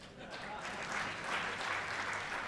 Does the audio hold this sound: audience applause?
yes